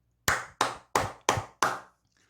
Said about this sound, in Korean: 여러분, 박수 한번 치고 가도록 하겠습니다.